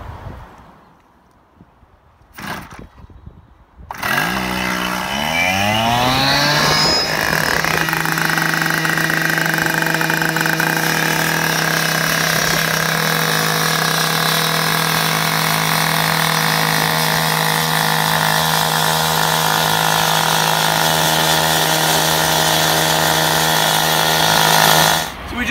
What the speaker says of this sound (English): we're just going to go ahead and start our saw cuts